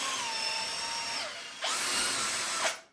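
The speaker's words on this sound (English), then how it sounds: "Now I'm gonna make the top a bit bigger so the screw head can sink in." A power drill runs steadily as it widens the top of a screw hole into a countersink, pausing briefly before a second loud whirring burst that stops abruptly.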